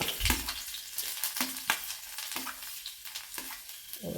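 Garlic sizzling as it hits hot oil in a pan for a Kerala-style carrot thoran, steady close frying hiss punctuated by repeated stirring scrapes and clinks.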